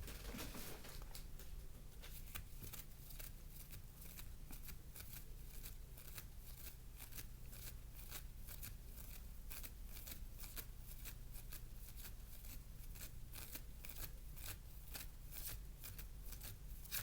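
Tarot cards shuffled by hand in quick, steady riffling bursts, a dry papery flutter repeating rapidly and evenly at close range in an otherwise quiet room.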